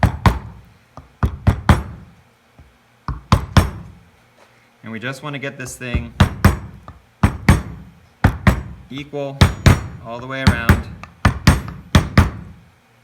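A rubber mallet hammers a front bearing seal into a 1987 Pontiac Fiero, producing repeated close, solid knocks in uneven clusters. Someone talks between and over the blows.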